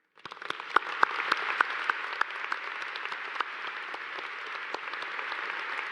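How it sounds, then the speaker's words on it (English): An audience at an undergraduate commencement ceremony claps at moderate distance, with a few sharp nearby claps standing out from a steady wash that keeps going to the end. "we can give another round of applause"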